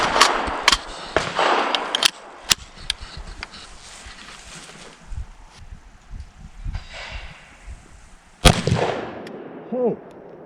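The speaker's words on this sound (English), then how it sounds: "next up we have the 40 grain jacketed hollow point that we're gonna test out today." A P90 fires 5.7x28mm 40-grain jacketed hollow point rounds: a few sharp, loud shots at uneven intervals, one especially strong crack near the end, with some talk in between.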